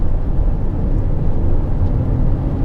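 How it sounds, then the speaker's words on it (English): A 2018 Lexus NX 300h hybrid with a 2.5-litre inline-four, accelerating hard in sport mode, gives only a steady, subdued low engine drone from inside the cabin. "that's foot pretty much all the way down, in all honesty, and it's still very, very quiet"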